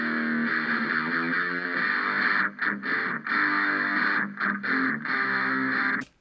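A distorted electric guitar, darkened with EQ and filtered at both the high and low ends, plays sustained chords with several short choppy breaks, then cuts off sharply at the end.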